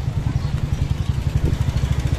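A motorcycle engine thrums steadily in a rapid low pulsing rhythm while riding through traffic along the João Pessoa seafront, loud and close throughout.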